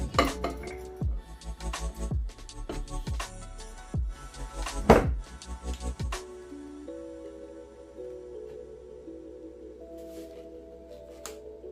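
Glass jar being closed and set aside after seasoning is packed, a series of sharp clinks, knocks and thunks, fairly close, followed by a quieter stretch.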